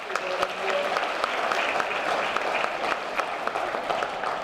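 Audience applause fills a school athletics parent meeting, a steady, dense wash of clapping from many hands that holds at an even level throughout, with no voices standing out.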